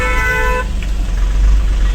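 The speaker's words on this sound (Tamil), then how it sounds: "ஏன் இவ்வளோ டிராஃபிக் இருக்குது" Heavy road traffic on a drive near Villupuram, Tamil Nadu, with a car horn sounding briefly at the start over a constant loud low rumble of engines.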